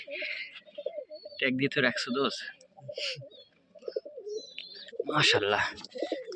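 Rajshahi Giribaz pigeons of an old bloodline coo softly and intermittently close by, mostly beneath someone talking steadily over them.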